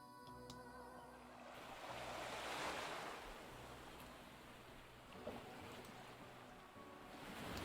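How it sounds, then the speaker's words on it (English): Waves wash against a rocky shore in a fogbound video game world, a faint, continuous surf roar swelling and receding with wind-like hiss and no talk. "I could seemingly hear the sounds of waves crashing against a rocky shore"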